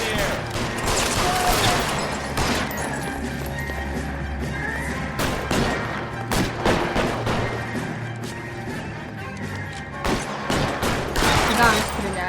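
Gunfire in the video game L.A. Noire during a chase after gangsters, with repeated sharp shots and bursts standing out over a dense, continuous game soundtrack and background noise.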